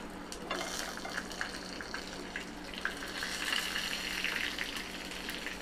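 Cumin seeds and whole dried red chillies frying in melted ghee for dal gosht, a continuous dense sizzle and crackle with light stirring, moderately close and without talk.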